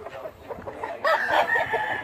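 A fighting rooster crows at a farmyard coop, a bright, rising call that swells partway through over soft clucking and background farm noise.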